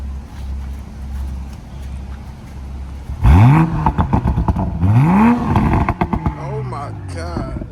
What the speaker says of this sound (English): Yo, rev it up for me.